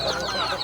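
Chickens cluck close by on a rural farm in Glan, a short burst of hen-like clucking with no talk over it.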